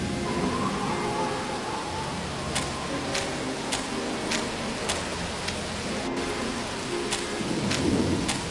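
A thunderstorm with steady heavy rain and rumbling thunder in an Agatha Christie island mystery game, with a series of sharp ticking clicks over the downpour.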